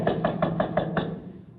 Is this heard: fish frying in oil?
no